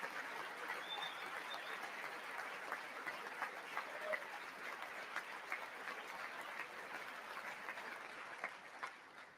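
A large audience claps steadily and continuously at a political gathering, with dense, even applause that sounds quite distant and faint throughout.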